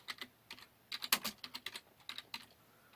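Quick bursts of typing on a computer keyboard as a search is entered, with close, crisp key clicks in short irregular runs and brief pauses between them.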